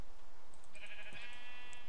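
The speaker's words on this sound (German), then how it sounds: "Da ist ein Schaf." A sheep in the Minecraft video game bleats once in a short, clear, wavering cry at moderate level over a quiet background.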